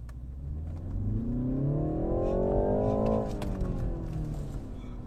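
A BMW 330i M Sport accelerates hard from a standstill, its engine note climbing steadily for about three seconds before easing off into a smoother cruising whir, heard from inside the car with no talking.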